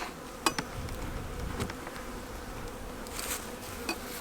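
Honey bees buzzing steadily around a hive, a low droning hum with a few louder passes close by, no voices.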